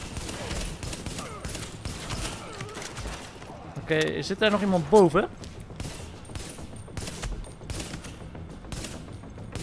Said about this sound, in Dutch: Ik word nog wel beschoten.